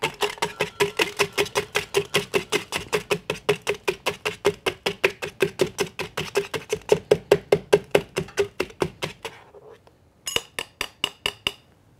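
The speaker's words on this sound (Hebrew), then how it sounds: "לוקחים את השייקר, מוסיפים קרח לבפנים, לוקחים את המדלר ומתחילים לקטוש." A bar muddler crushes ice inside a cocktail shaker for a mojito, making a fast, steady run of loud crunching, clinking strikes that stops briefly and then picks up again with a few final blows.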